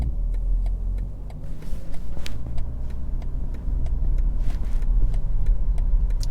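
A 2024 BMW X6 xDrive40i reversing itself into a parking spot under automatic parking: a steady low engine and road hum inside the cabin, with a regular faint ticking running throughout.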